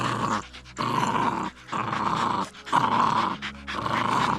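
A dog growls close by in about five rough, throaty bursts separated by brief pauses, with no other sound between them.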